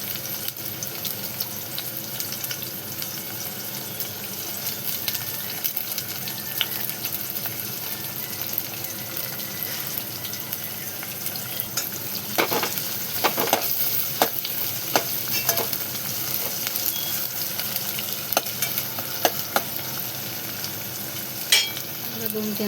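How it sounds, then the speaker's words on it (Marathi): Cut onions with cumin fry in a pan for prawn biryani, a steady close sizzle running throughout with intermittent scraping strokes of a spoon stirring, clustered in the middle. "जिऱ्याच्या नंतर बघा 2-3 कांदे कट करून घेतलेले ते टाकून घ्यायचे."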